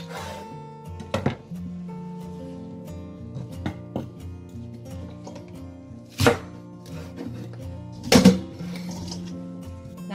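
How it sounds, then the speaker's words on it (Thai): A knife chops pounded onion flower stalks on a board for pickling, several sharp irregular whacks spaced over a quiet, faint background. "หลังจากที่เราทุบเสร็จแล้วนะเราก็หั่นเลยค่ะ"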